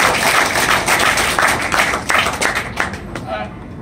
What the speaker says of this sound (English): I think you all do a round of applause for that one.